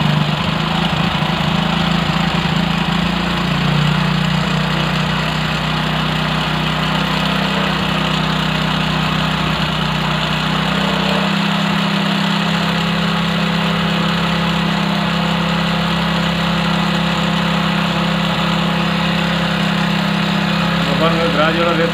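A motorcycle engine idles steadily after its carburetor has been cleaned, a continuous low mechanical hum that runs unbroken from start to finish, with a person talking over it.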